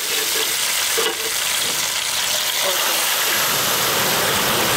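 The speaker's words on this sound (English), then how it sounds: "I'm just going to fry them." Tandoori chicken wings fry in a pan with a loud, continuous, hissing sizzle that stays dense and steady throughout.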